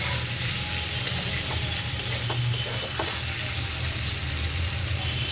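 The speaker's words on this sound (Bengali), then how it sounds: "আলু ভাজি বসাই দিচ্ছি।" Potatoes for aloo bhaji fry in a pan with a steady, even sizzle throughout, broken by a few faint clicks of a utensil, no speech.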